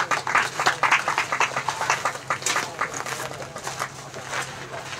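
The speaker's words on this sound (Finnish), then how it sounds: "Annetaan aplodit pelaajille" A small crowd at a pesäpallo press conference claps for the players, a brisk, moderately close burst that slowly thins out over a few seconds.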